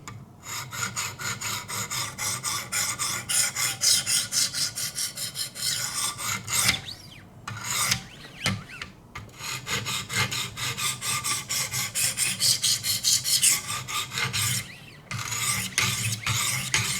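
Steady, rapid back-and-forth rasping of a Schrade Old Timer knife blade against 200-grit stones on a Wicked Edge sharpener, close and continuous, with a couple of short pauses between runs of strokes.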